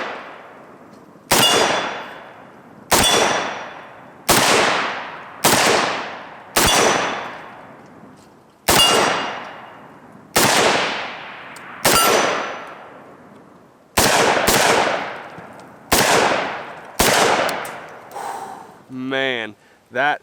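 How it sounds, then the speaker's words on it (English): AK pistol firing about a dozen single gunshots outdoors, each a sharp loud crack with a ringing decay, spaced one to two seconds apart, with a brief metallic rattle near the end. "let's take a couple shots with this thing."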